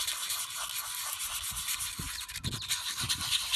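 Hand sanding paint off an alloy wheel rim with 150-grit paper, producing close, steady scratchy rubbing strokes in a quick, uneven rhythm, faint and alone.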